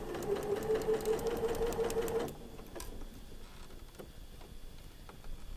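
Sewing machine stitching the final seam of a quilt block for a Cactus Spinning Star quilt, a steady close whirring run for about two seconds, then stopping into quiet with light handling taps.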